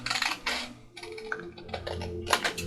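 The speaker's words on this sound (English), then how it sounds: "I'm just going to use my scissors just because it's easier to see right now. So I'm going to go ahead and just cut that little triangle off." Scissors snip a small triangle off a paper craft envelope, making several faint, crisp clicks in an uneven rhythm in a quiet room.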